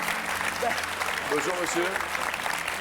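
A television game-show studio audience applauds steadily, a dense patter of clapping that runs throughout while a voice speaks briefly over it.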